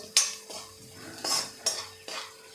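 A spoon scrapes and clinks against a pan as Kashmiri red chilli powder, chilli powder and salt are stirred and sautéed, five distinct strokes over a soft sizzle, close and without speech.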